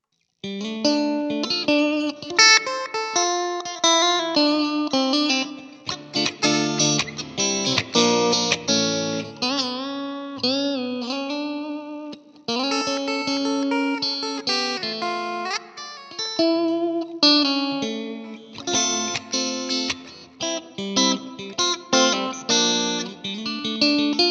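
Electric guitar through a Fender Mustang Micro Plus playing a melodic line drenched in heavy, wet reverb, with long echoing tails and chorus-like shimmer, steady and loud throughout.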